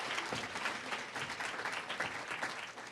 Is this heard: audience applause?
yes